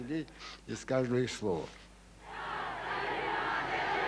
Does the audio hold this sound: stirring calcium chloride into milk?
no